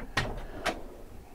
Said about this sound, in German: Soft-Close-Schubladen.